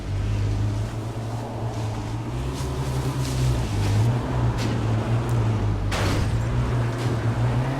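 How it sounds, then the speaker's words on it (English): A car engine drones steadily in a game, a constant low motor hum with a brief whoosh partway through. "He hears the car, sees the car, and gets line of sight."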